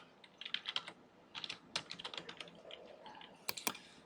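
Light clicking keystrokes on a computer keyboard come in quick irregular bursts, quiet and close, while entering numbers into an Excel spreadsheet; no talking.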